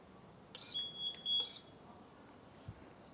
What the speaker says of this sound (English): it will come in alarm and the pump will stop